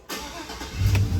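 A Chevrolet Avalanche, with a ticking AFM/DOD lifter problem, cranks and catches on its first start from a jump box, the engine rising into a steady, close idle rumble.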